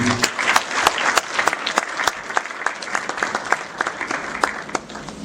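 Steady audience applause at a human rights day ceremony, dense, crackling claps filling the whole stretch, fairly loud and continuous without a pause.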